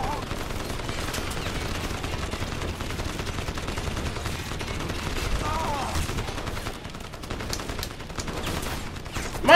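Dense automatic gunfire from the game Crysis rattles in sustained bursts, played through an Oculus Rift with a Wiimote controller, steady and loud throughout with a sharp jump at the very end.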